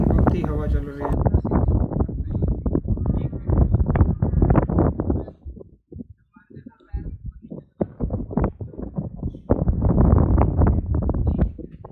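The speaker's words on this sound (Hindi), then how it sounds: "बहुत ही हवा चल रही है।" Strong wind on the snowy Churdhar peak trek buffets the microphone with deep, rumbling gusts that come and go under continuous talking.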